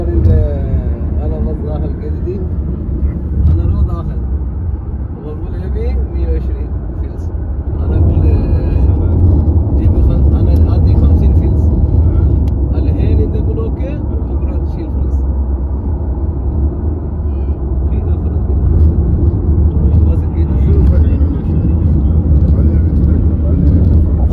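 Steady low rumble of vehicles moving along a highway near an accident scene, a continuous drone of passing traffic that grows heavier partway through, with people talking over it.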